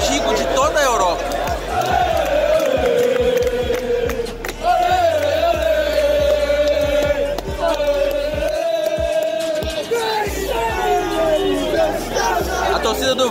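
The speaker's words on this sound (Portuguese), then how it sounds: "A torcida do Wolves está muito animada, fumaça laranja, está jogando cerveja pro alto" Wolves football fans in a packed Wembley stadium at an FA Cup semi-final, a dense roaring crowd with chanting and shouts swelling and surging continuously, loud and close.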